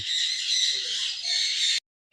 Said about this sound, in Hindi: यहाँ पे रंगीन रंग चिड़िया, तोते।